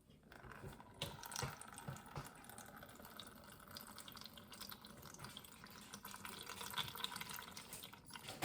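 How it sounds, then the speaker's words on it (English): Whey being poured slowly through a cheesecloth strainer while making cottage cheese from raw milk, a soft continuous trickle and splash with faint drips, quiet and close, no talking. "So we're going to pour that through our strainer or cheesecloth here."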